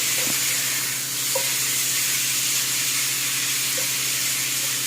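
Ground taco meat for nachos browns in a pan with a constant, close hissing sizzle and a few faint utensil taps.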